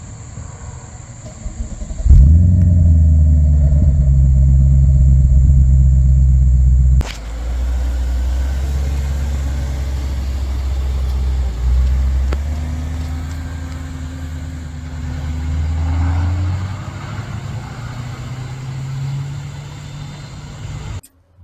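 An Audi S4 ute on a test drive gives a loud, low engine drone with steady road rumble from inside the cabin; the pitch shifts as it pulls and gears change.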